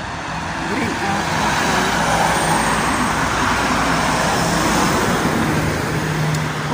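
Road traffic passing on a highway near Neuilly-sur-Marne, a dense, continuous roar of cars and heavier vehicles rushing by close, with a low engine hum running steadily throughout.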